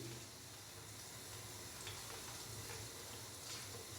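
Green chilies frying lightly in hot oil in a pan give a faint, steady sizzle and crackle that continues throughout with no break.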